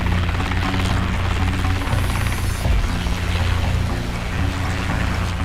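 A Boeing CH-47 Chinook twin-rotor, twin-engine helicopter hovering over the sea: a steady, loud, low rumbling drone with broadband rotor wash and spray noise throughout, close and continuous.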